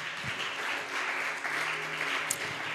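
A church congregation applauds together in a steady, dense wash of clapping that carries evenly from start to finish.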